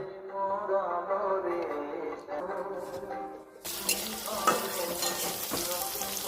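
Food with chili frying in a pan for pointed gourd paste while someone talks over a soft sizzle, then a sudden loud burst of crackling sizzle as the sizzle swells and continues steadily for the final seconds.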